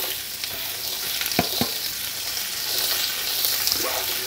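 Chopped onions frying in a pot on a gas stove for Haitian soup joumou, a steady close sizzle with a few scraping stirs, no voices.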